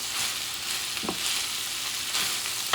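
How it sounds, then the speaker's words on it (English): Chorizo and rice sizzle steadily in a hot pan while being stirred, with a couple of brief scraping strokes of the utensil standing out over the continuous close frying hiss. "And you start mixing everything. Start mixing these babies."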